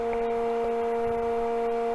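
A vacuum chuck pump motor runs steadily on a woodturning setup, producing a constant tonal electric hum with no breaks, at moderate level and no voices.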